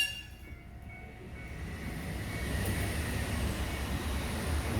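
An express train rumbles past with a steady, building roar that grows louder as it nears, with no voices, at a countryside station in Hokkaido, Japan.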